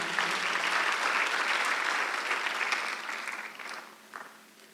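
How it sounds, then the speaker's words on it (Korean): Church congregation applauding during a Korean Sunday worship service, steady broadband clapping that holds for several seconds, then thins and fades toward the end with a last few scattered claps. "박수하세요."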